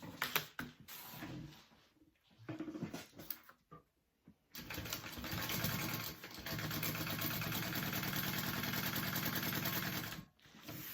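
A domestic sewing machine runs steadily for several seconds, basting a slip pocket onto a tote bag, with a few short bursts and stops of stitching before the long continuous run and a brief pause near the end.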